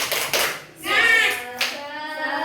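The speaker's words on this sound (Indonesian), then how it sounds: "Tepuk semangat." Children in a classroom clap their hands in short rhythmic bursts, the claps interleaved with young voices chanting and calling out.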